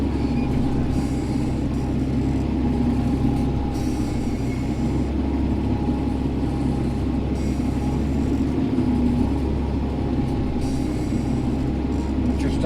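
A tractor drones steadily while ploughing tough, wet, slimy clay ahead of winter wheat, its loud, low engine rumble continuous and close throughout with no pauses.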